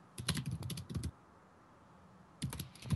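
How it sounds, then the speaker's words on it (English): Fast, forceful typing on a computer keyboard, with dense bursts of key clicks at close range, a pause of more than a second, then another rapid burst. "Beating up them keys."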